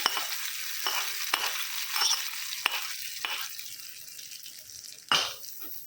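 Tempering with curry leaves and coriander sizzles as it is poured into a tomato peanut chutney, crackling steadily with several sharp, loud bursts close by and no talking.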